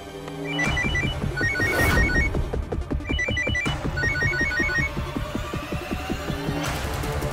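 A telephone rings as someone calls the police in a Hindi TV drama, a repeating electronic ringtone that fills the whole clip, steady and prominent, with no voices over it.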